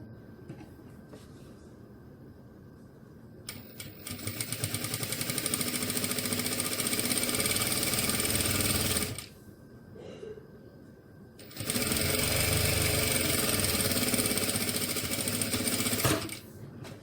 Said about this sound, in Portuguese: Vou fazer, então, a costura em um dos lados.